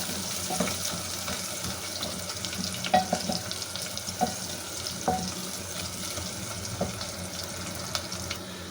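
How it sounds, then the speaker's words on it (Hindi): Chopped onion goes into hot oil in a pan for a mutton curry and browns with a steady, close, even sizzle and hiss, broken by a few faint clicks and stirring knocks. "अब ये जो हमने 1 प्याज लेके काटा था ये इसमें डाल देंगे और इसे ब्राउन करेंगे"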